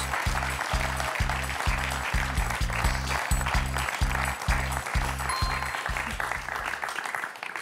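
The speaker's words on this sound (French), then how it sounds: "On peut applaudir Virginie, toujours dans la course." Studio audience on the French TV quiz show Questions pour un champion applauds, moderately loud, accompanied by a rhythmic pulsing beat of music underneath that stops near the end.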